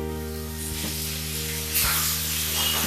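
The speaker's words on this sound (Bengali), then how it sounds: "নারকেলটা একটু ভাজা ভাজা না করলে তার ফ্লেভার যেটা আছে সেটা বার হবে না" Grated coconut sizzles steadily in a hot pan, a continuous close frying hiss that swells louder near the end, with a couple of soft clicks of a spoon against the pan.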